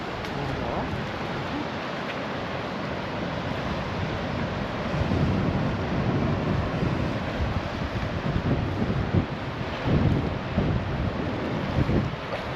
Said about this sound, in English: So this is the beach. It's a bit overcast, but we're gonna make the best of it.